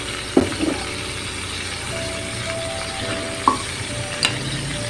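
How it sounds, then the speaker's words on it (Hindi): A spoon mixes half a cup of yogurt with ground spices, producing a few soft clicks and scrapes against the bowl over a steady low background hiss. "इसको मिक्स करेंगे"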